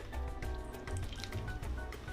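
Merlot wine pours into a bowl of cake mix, a faint, steady liquid trickle with soft wet squishing, quiet and close with low background rumble.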